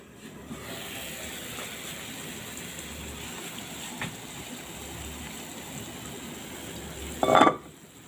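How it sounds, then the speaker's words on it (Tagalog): A covered pot of vegetable broth simmers at a boil, giving a steady soft bubbling hiss throughout with no talk, then a brief louder rattle near the end. "At ito guys, kumulo na."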